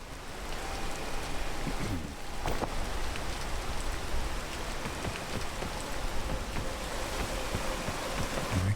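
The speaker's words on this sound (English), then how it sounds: "This rain, though, I tell you," Rain falls in the climbing game PEAK as a dense, continuous hiss of drops on surfaces, loud and unbroken, with occasional faint thuds underneath.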